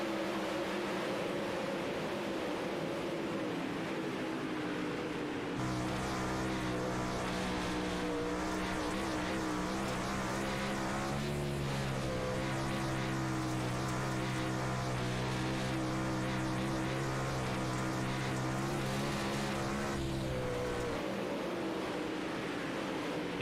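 360 sprint cars racing in a B main at Knoxville Nationals, a loud sustained engine roar with shifting harmonic drone as the pack passes, swelling and fading over the lap, no talk.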